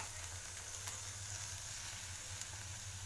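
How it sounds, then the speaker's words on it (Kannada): Tomato and spring onions roasting in a pan for bread toast: a soft, steady, even sizzle with low background hum, faint and continuous throughout. "ಇದೆಲ್ಲ ಸ್ವಲ್ಪ ರೋಸ್ಟ್ ಆಗಬೇಕು ಓಕೆ ಸ್ವಲ್ಪ ರೋಸ್ಟ್ ಮಾಡಿ"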